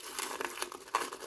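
A sheet of masking paper crinkles and crackles as it is folded in by hand for spray painting, a short, close burst of papery rustling.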